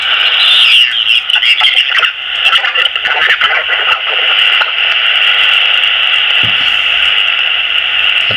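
An iRadio UV88 handheld transceiver scanning for HF signals gives off a loud band of hissing radio static with warbling, croaky bursts, constant and close throughout.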